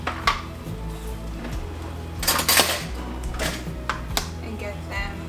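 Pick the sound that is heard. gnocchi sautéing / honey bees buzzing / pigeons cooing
gnocchi sautéing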